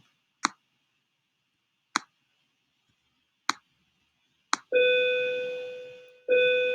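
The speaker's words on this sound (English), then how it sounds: "that bell comes just in time for me to end this video" A school bell rings after four sharp, evenly spaced ticks: a loud, sustained electric tone that sounds, cuts off briefly, then starts again, with no talk over it.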